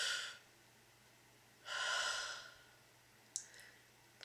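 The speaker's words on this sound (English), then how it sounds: "Take a deep breath with me." Two slow, deep breaths sound close and soft against a quiet background, each a long airy inhale or sigh, followed by a brief sharp intake at the end.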